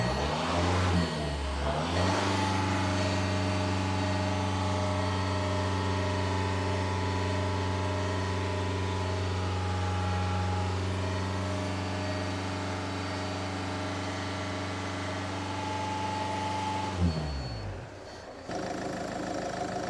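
A Land Rover Freelander 2 engine is revved and held at 2500 rpm during a charging check. It rises quickly, then holds a steady, even hum at constant pitch for about fifteen seconds before dropping back to idle.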